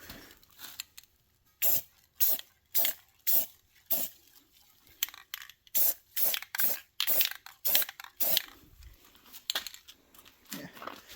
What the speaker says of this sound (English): just doing some simple spray bombing